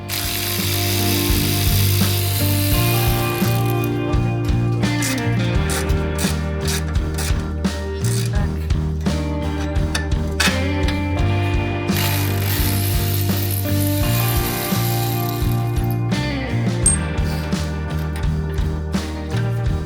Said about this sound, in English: So we got this clamp undone. We got this bolt removed.